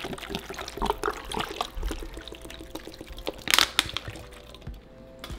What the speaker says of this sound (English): And I'm going to add 2 cups of water.